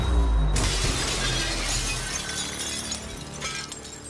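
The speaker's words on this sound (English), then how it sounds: "we're going to use this and break out of the glass" Glass shatters loudly at the start in the video game Prey, a sharp bright crash of breaking panes followed by a long trailing wash of debris and ambient hum.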